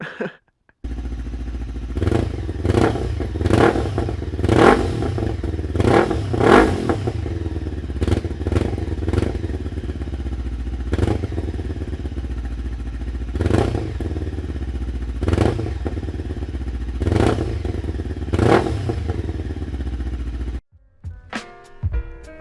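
A loud Lexmoto LXR380 motorcycle with an aftermarket Lextek exhaust and deep, rumbling note idles and revs in repeated bursts, close by, with clattering mechanical noise between blips.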